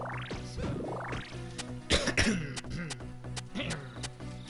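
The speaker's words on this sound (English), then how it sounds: "please do excuse me clearing my throat constantly" A gamer clears his throat several times in a close, rough burst around the middle, set against steady retro platformer music and sound effects from Shantae: Risky's Revenge.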